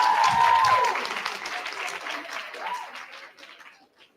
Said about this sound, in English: please clap hands for Group C.